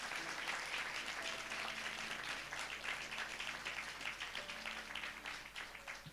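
A church congregation at a Sunday service claps loudly together, a dense and steady crackle of many hands that carries on without pause for several seconds.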